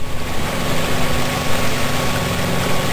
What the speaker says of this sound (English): You can hear the motor in the background.